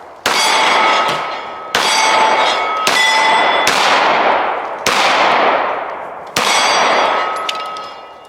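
Dan Wesson ECP .45 pistol firing at steel targets: five sharp, loud gunshots spaced about a second apart, each followed by a ringing metallic clang from the struck steel.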